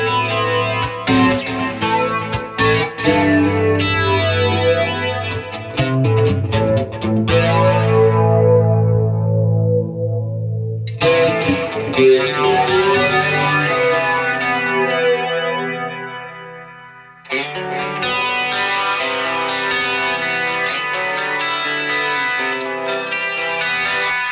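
An electric guitar run through a new pedalboard with chorus and distortion, summed to mono, plays chords and picked notes with swelling sustains and brief breaks, alone without talk.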